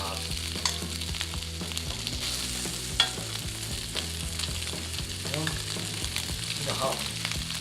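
Spicy pork for jeyuk kimbap fries in a hot pan with a steady, close crackling sizzle and occasional scraping stirs, continuous throughout.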